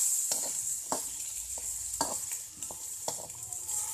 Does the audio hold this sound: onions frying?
yes